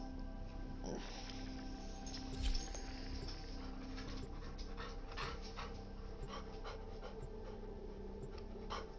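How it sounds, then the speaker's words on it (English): A pet dog pants close by with soft, quick, steady breaths, with faint patter and a small whimper-like bump partway through, low in level. "my dog is wanting some attention."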